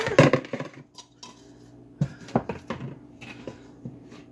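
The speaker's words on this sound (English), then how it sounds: "So let's mix everything together." Spoon clattering and scraping against a bowl while mixing flour, with a cluster of sharp clinks at the start and scattered knocks afterward, close and fairly loud, no talking.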